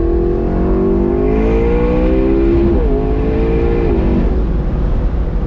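McLaren 650S Spider pulling hard in second gear, a loud, close engine note climbing steadily in pitch with two brief dips as the revs surge, with no talking over it.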